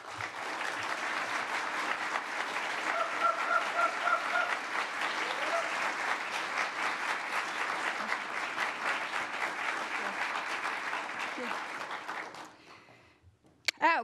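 Sustained audience applause welcoming NCAI president Fawn Sharp at the State of Indian Nations Address, a steady dense clapping from a large crowd that fades out near the end.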